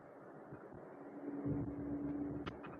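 Steady low drone of a Maruti Eeco van's engine heard from inside the cabin while driving, a constant faint hum with a few light knocks near the end and no voices.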